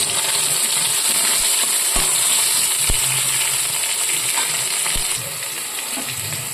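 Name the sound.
potatoes and tomato frying in oil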